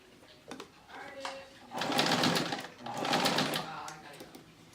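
Sewing machine stitching a cross quilt seam in bursts, running two longer loud stretches after a few short starts, close by, with a voice talking over parts of it.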